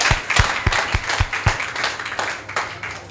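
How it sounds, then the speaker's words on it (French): Audience applause in a church service, a burst of scattered claps that starts dense and loud then thins out, with a few separate hand claps standing out near the start. "Applaudissons."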